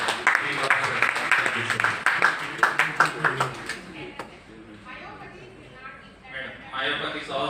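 Scattered applause from a small group at a medical college case presentation, individual claps distinct for a few seconds before dying away into background room noise and faint voices.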